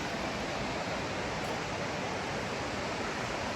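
A waterfall near Grassi Lake roars as a steady, dense rush of white water, loud and unbroken throughout, with no voices over it.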